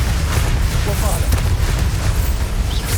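A Bombarda explosion spell in Hogwarts Legacy booms with a heavy, sustained low rumble, loud and continuous under scattered crackling debris.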